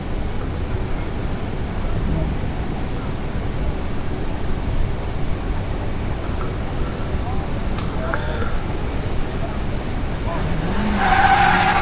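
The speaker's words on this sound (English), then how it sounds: "taking the wheel of the MR2 for a run up the stage" A Toyota MR2 rally car runs up a stage at the Lombard Rally at Grimsthorpe Castle, its engine a steady distant drone over broadband wind and crowd noise, with a brief tire squeal rising near the end.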